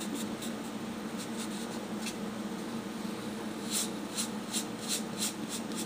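Filler being troweled into seams and cracks on an RC airliner engine nacelle, soft scraping strokes that repeat in a quick, uneven rhythm over a steady background hiss, close and quiet.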